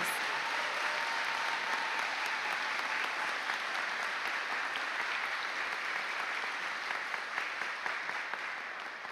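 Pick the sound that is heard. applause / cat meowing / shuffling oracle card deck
applause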